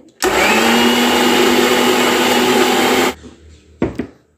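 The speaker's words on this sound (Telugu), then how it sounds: "మిక్సీ పెట్టడమే" A mixer grinder blends soaked soapnut, neem leaves and aloe vera in one loud, steady whirr that runs for about three seconds and stops abruptly, then gives a short second burst near the end.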